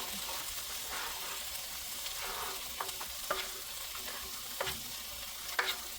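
Food sizzles and fries steadily on a non-stick electric cooker with both sides heating, a continuous crackle punctuated by a few sharper pops and stirring clicks, fairly close and moderately loud.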